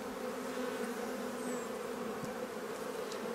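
Honeybees buzz steadily in an opened spring hive, a dense close drone holding even throughout with no voices.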